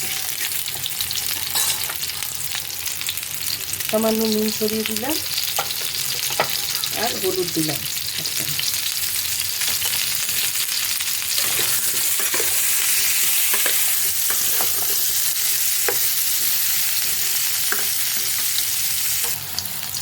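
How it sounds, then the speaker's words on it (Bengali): Boiled potatoes fry with a steady sizzle in a kadai, dusted with salt and turmeric, while a spoon scrapes and stirs them at intervals; someone talks briefly over the constant crackle. "একটু লাল লাল করে ভেজে নেব সিদ্ধ করা আলুগুলো।"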